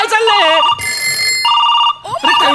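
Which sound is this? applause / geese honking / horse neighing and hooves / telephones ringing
telephones ringing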